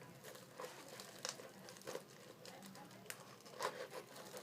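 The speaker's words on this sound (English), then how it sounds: "just take your scissors, any pair of scissors is fine, and you're going to go right along the lines that you drew" Scissors cutting paper along drawn template lines, a quiet close series of irregular crisp snips and rustles.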